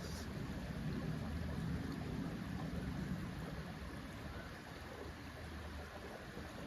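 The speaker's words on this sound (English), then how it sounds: "These ripples of sound emanating from the gurgling stream" A gurgling stream of running water, a steady, close, broadband wash with a low rumbling undertone, continuous and alone throughout.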